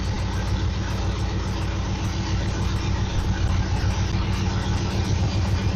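A Camaro with a T56 transmission runs in first gear with the clutch let out, a loud, close, steady engine rumble and drivetrain drone throughout.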